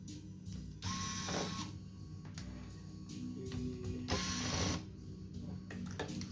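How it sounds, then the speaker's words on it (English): A small screwdriver undoes the screws on a Lenovo Ideapad 110 laptop, close and quiet, with short whirring and ratcheting bursts and light clicks separated by pauses. "you just unscrew those 4 screws over there"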